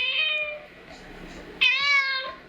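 A domestic cat gives two clear, close meows, a drawn-out one at the start and a sharper, brighter one after a brief pause, with quiet low background noise between.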